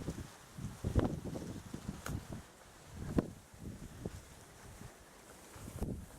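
Wind gusts buffet the microphone in low, rumbling bursts, rising and falling irregularly with a few sharp knocks between them.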